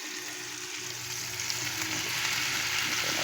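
Bamboo shoots (labong) fry in a pan with onion and tomato, giving a close, continuous hissing sizzle that swells slightly as it goes, with no voices.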